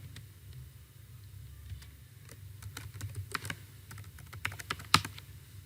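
Keys tapped on a computer keyboard while entering a password to log in to a local WordPress site, an irregular run of close, crisp clicks over low steady hum, with no talking.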